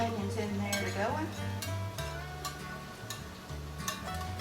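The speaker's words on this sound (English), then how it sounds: "Onions are cooking." Sliced onions cook in a pan for a Salisbury steak freezer meal, giving a steady low sizzle with scattered light clinks and scrapes of a utensil against the pan.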